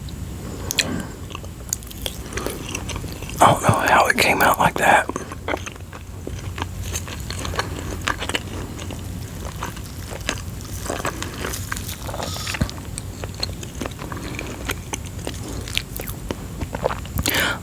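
Close, intimate chewing and crunching of mozzarella pesto chicken waffles, wet bites and mouth sounds repeating irregularly, with a short quiet spoken remark partway through.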